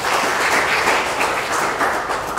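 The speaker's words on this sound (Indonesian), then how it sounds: "Kasih tepuk tangan untuk Tuhan." A church congregation at a New Year's sermon claps together, a loud continuous burst of applause lasting a couple of seconds.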